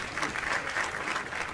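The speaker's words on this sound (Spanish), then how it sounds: "Oye, Antonio, gracias por los aplausos." Studio audience applause on a Spanish television talk show as a guest takes his seat, a steady, fairly soft mass of clapping heard at a slight distance with faint voices underneath.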